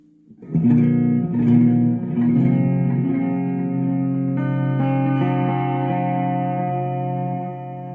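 Electric guitar through a Coolmusic multi-effects pedal on its delay 2 setting: several picked notes and chords blur into a sustained, echoing wash that rings on for seconds before fading.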